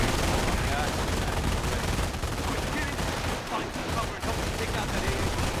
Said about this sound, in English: I'm hearing a lot of shots